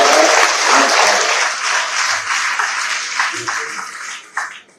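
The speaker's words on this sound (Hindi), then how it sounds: "जोरदार ताली बजाओ" A crowd at an honour ceremony for cricketer Kranti Gaur applauds loudly and steadily, the dense clapping thinning slightly toward the end, with no speech over it.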